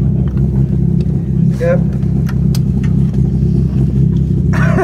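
A VW rally car's engine idles and rumbles steadily at a shakedown test, a low continuous drone with a brief rev swell near the middle and people talking nearby over it.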